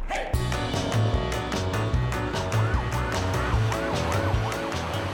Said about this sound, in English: One of the first things you realize when you land in Manila is the traffic is awful.